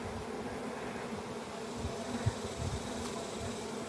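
Honeybees buzz steadily around an open brown hive during an inspection of brood frames, a dense, continuous hum close to the microphone with no talking.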